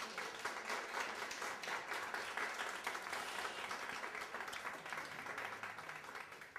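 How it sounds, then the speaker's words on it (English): Steady crowd applause from a lecture audience fills the hall, dense and continuous throughout, easing slightly toward the end with no one speaking. "And again, give Gary a round of applause"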